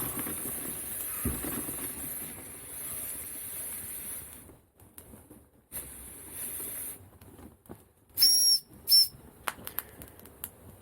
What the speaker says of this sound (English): Well, the whistle works